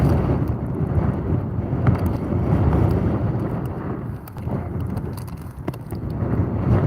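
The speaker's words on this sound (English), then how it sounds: "the wind seems to be picking up" Steady wind buffeting the microphone outdoors on a cold fishing trip, a loud continuous low rumble with gusty swells and no voices.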